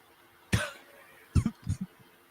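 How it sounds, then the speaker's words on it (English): A sharp cough after a spoonful of spicy food, then a pause and a short cluster of three or four more coughs, close by with quiet background between bursts. "There's the cough."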